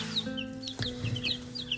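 Nine young chicks, Barnevelders, Lavender Orpingtons and others, in a brooder on a homestead farm, giving soft scattered peeps and chirps close by over a low steady hum.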